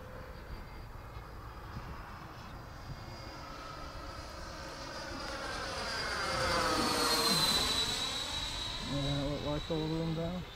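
A radio-controlled electric ducted fan jet, a Douglas F-4D Skyray model, sweeps past at part throttle with a rising, falling whine that peaks overhead and fades, over outdoor background noise.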